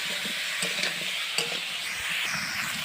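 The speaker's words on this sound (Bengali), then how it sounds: "মশলাগুলো দিয়ে দিয়েছি ভালো করে একটু ফুলকপি আর আলুটা কষে নেব" Cauliflower and potato being stir-fried with spices, a steady close sizzle with scraping stirs and a few sharper spoon knocks throughout, no voices.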